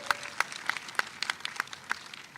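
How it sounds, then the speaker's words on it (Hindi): Sparse, scattered handclaps at an irregular rhythm at a community conference in Bhopal, India, a handful of people clapping faintly rather than full applause. "आप लोग तालियां बजाकर स्वागत कर दे"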